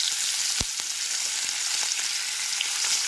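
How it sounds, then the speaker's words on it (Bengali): Fish pieces frying in hot oil in a pan over a high flame, a loud continuous crackling sizzle with a few sharper pops. "এবার মাছের পিসটা দিয়ে দিচ্ছি"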